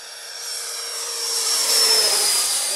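A radio-controlled model jet plane rated for about 100 miles per hour flies past at a flying field, its loud, steady whooshing whine swelling as it nears, with no talk.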